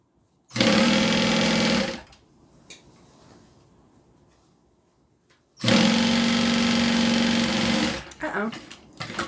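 A sewing machine stitches a bag in two loud, rapid bursts of a couple of seconds each, separated by a quiet pause with soft handling clicks, followed by a few short rattling stops.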